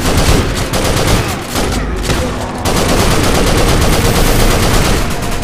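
Dense, continuous rapid gunfire in a co-op shooter video game as players fire at the boss Abbadon, loud and unbroken for several seconds with barely audible voices beneath.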